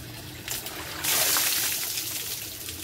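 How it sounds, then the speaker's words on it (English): Water from a bucket splashes down during a bucket shower, a short loud rush of pouring and spatter that swells suddenly, then settles into a softer trickle. "You get to officially take your first bucket shower."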